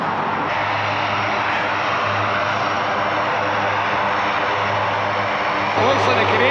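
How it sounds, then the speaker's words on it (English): A large military aircraft passes close while coming in to land at Prestwick Airport, its loud engine drone steady and continuous throughout, with a faint low hum beneath. "There's another big military plane just come into Prestwick Airport."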